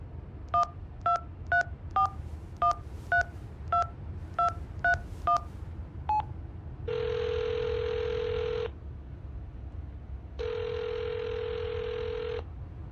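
A telephone number is keyed in the video game Hitchhiker: a steady run of about eleven short touch-tone beeps, then two long ringback tones with a gap between, clean over a low hum.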